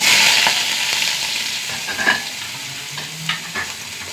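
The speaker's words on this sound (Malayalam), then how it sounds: "കുറച്ച് ഉള്ളി ഇട്ട് കൊടുക്കാം കേട്ടോ" Onions sizzling and crackling steadily in hot oil with fenugreek seeds in a Kerala-style curry, with a few clinks and scrapes of stirring over the continuous bright frying hiss; no talking.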